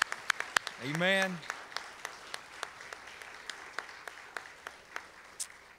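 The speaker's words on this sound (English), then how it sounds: "help me give the round of applause one more time for our kids' choir." A church congregation claps sparsely for a kids' choir at a Sunday night service, with scattered distinct claps under a voice that briefly sings out at the start.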